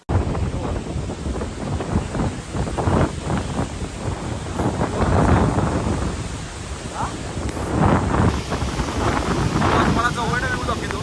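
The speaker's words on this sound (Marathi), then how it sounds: "एवढं वारं आहे." Strong wind buffets the microphone at Radhanagari dam in the rain, a loud continuous roar with gusting swells throughout, and people talk intermittently over it.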